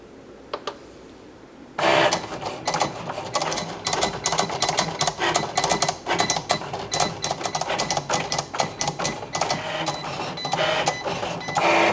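A Cricut Explore 3 cutting machine drawing with a red pen, starting after a quiet second and then running steadily with rapid clicking, whirring carriage movements and short mechanical bursts, loud and close.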